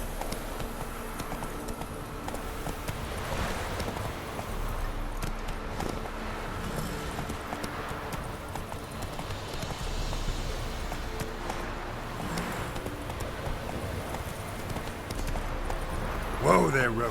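Roach, the horse in The Witcher 3 on PS4, gallops in a steady rhythmic clip-clop of hooves throughout, with game ambience and faint voices mixed underneath.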